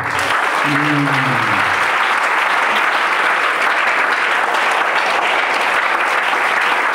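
Church congregation applauding and cheering for Jesus during a French-language sermon, a dense steady roar of clapping lasting throughout, with a brief sung or shouted voice near the start.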